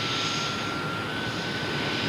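A Boeing 747 jet airliner taxiing gives a steady, loud broadband engine roar with a thin sustained whine running through it, unbroken for the whole stretch.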